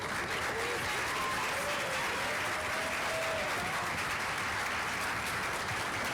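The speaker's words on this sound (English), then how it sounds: "Let's give them a round of applause" Sustained audience applause at a town hall after a panel discussion, a dense, steady wash of many hands clapping throughout with faint crowd murmur.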